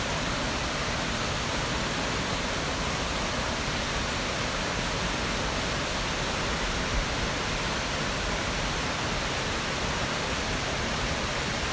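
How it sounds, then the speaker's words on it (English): River water rushes through the mountain valley at Okutama near Tokyo, a constant broadband roar that stays steady and fairly loud throughout with no pauses and no voices. "I love the sound of the rushing water."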